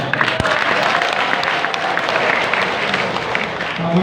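An audience at an Islamic sermon gathering claps steadily throughout, a dense and continuous wash of applause with no pauses.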